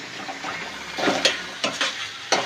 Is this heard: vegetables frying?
yes